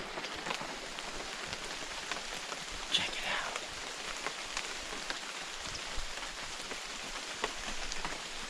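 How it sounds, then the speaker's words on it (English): Steady rain patters densely on leaves and surfaces all around in a Guatemalan jungle, a soft continuous hiss with occasional drips; someone speaks briefly under it. "it's raining pretty good right now"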